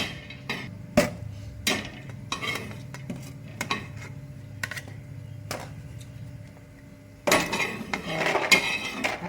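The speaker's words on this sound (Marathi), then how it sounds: "हे बघा असं खोबरं पण जळू नाही द्यायचं बरं का, फक्त लाल होईपर्यंत भाजायचं." A metal utensil scrapes and knocks against a clay pot as coconut is roasted and stirred, giving irregular close taps over a faint background hiss, with a louder burst of clattering near the end.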